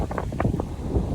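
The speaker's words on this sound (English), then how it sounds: "It's really windy out here." Wind buffets the microphone with a low, steady rumble and soft gusty noise.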